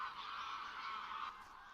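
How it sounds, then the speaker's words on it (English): Geese honk in a faint, continuous chorus from a distant flock, with the calls merging into a steady wash that eases slightly near the end; no one speaks. "Geese are very unusual in that they choose their mates for life."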